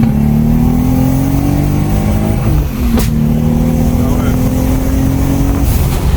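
A Lexus IS200 fitted with a Toyota Supra 2JZ engine and big turbo revs hard and loud nearby, engine pitch climbing and then briefly cutting out before resuming, with a voice speaking over it.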